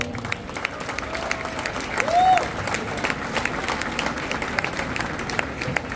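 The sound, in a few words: audience applause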